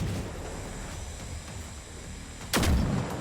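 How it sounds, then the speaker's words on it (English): Loud booming explosion from a combat video game with tanks and machines, bursting suddenly out of a rumbling battle ambience near the end. "Oh, that was a good one. That was a good explosion."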